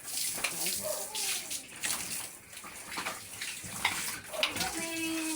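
Water splashing and pouring as pigs are washed on a concrete floor, uneven gushes and splatters nearby, with people talking and animal noises mixed in.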